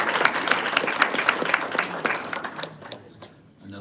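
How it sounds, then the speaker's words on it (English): A round of applause fills a track and field team banquet, many hands clapping in a dense, steady patter that thins and fades toward the end. "so give yourselves a round of applause"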